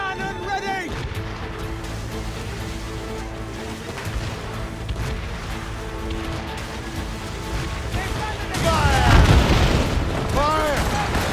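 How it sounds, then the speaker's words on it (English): Ship cannons fire in Assassin's Creed Rogue during a naval battle, with heavy booms bursting out beneath a churning music and sea backdrop, a big volley erupting near the end. "Look! Put a shot there! Fire! More enemy ships, Captain!"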